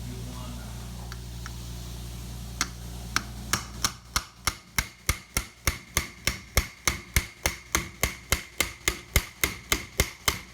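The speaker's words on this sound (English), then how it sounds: "Now I'm purposely using a very, very small hammer so I don't overdo it" A very small hammer taps while a Triumph TR3 wiper motor is dismantled: a few scattered taps, then a fast, even run of sharp metallic strikes, close and loud over a low background hum.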